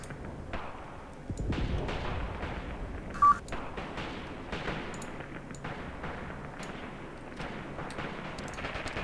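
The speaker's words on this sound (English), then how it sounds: "Let's drop in more mortars on these enemies." A mortar barrage falls in the Graviteam Tactics: Mius Front war game, with scattered distant thumps and blasts over a low battlefield rumble and a short electronic beep partway through.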